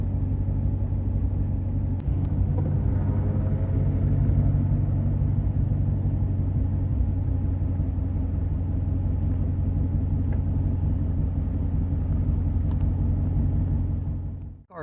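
Manual transmission car engine idling steadily as the clutch is slowly released with no throttle, a continuous low rumble close by, holding even for about fourteen seconds before cutting off abruptly.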